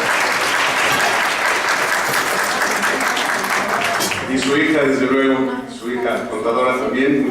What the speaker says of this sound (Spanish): Un aplauso para el licenciado Toledo.